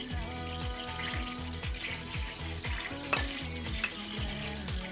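Spices such as black pepper hit hot olive oil in a pan, producing a dense, even crackling sizzle with a few sharper pops, set over a low, rhythmically repeating hum.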